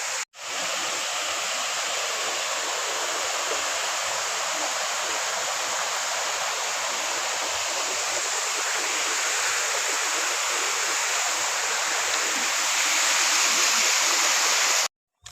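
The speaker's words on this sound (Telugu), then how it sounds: "ఇదే వాటర్ ఫాల్స్ చూసేయండి." A waterfall roars steadily and close by as a dense, unbroken rush of water that holds the same strong level throughout, with no talking.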